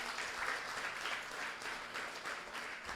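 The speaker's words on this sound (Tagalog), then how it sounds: "tayo pong lahat ay magbigay ng papuring palakpak sa ating Diyos." A church congregation claps together during a Sunday worship service, producing a sustained wash of applause that swells and pulses steadily for several seconds, with no voices standing out.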